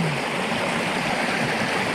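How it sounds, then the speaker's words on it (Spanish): A small, shallow river flows at a low rate, making a loud, steady, close rushing and gurgling wash with no break and no voices. "Como podéis ver, el río no es que sea muy caudaloso,"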